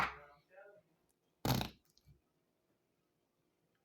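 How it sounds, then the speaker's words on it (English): Slime being squished lets out a single loud, squelchy fart-like burst, followed by a softer squish, with brief talk just before it. "So that's what's making me think fart slime."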